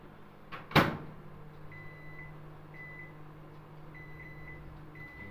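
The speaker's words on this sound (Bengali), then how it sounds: "মাইক্রো পাওয়ার লেভেলে 2 মিনিট আমি তেলটা গরম করতে দিলাম।" A microwave oven heating a spoonful of cooking oil at micro power level: a door thump or latch click at the start, then a steady low hum with faint periodic high beeps or tones.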